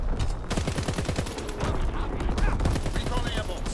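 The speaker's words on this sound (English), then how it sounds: "Firing battery bomb." Rapid artillery and gunfire bursts from a video game battle crackle in dense, overlapping volleys, with a player's voice talking over the shooting.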